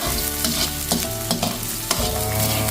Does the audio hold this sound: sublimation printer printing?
no